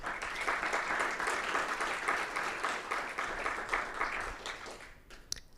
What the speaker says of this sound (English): Let's get a round of applause for these groups.